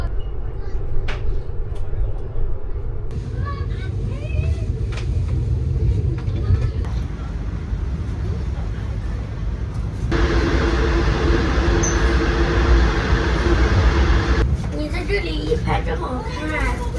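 Steady low rumble and rattle inside an old Chinese passenger sleeper train in motion, continuous throughout, with people talking over it in the crowded carriage.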